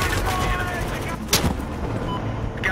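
Gunfire in the video game Battlefield Hardline, heard as a steady loud rumble of game combat noise with one sharper shot cracking through partway, set against continuous busy background sound.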